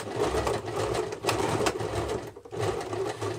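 A domestic sewing machine runs a double line of stitching along the shoulder seam of a small collectable doll's dress, its motor whirring in short, steady bursts with brief pauses between runs.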